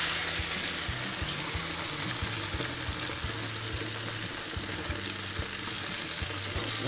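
Pizza fries in a pan with oil, a continuous close, loud sizzling crackle with soft clicks and scraping, no talking.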